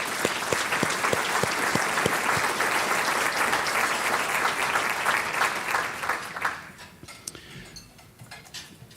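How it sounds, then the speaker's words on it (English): A convention audience breaks into sustained applause at a San Mateo County and Silicon Valley visitors bureau event, with dense clapping that thins and fades to scattered claps near the end. "I think they all deserve another round of applause"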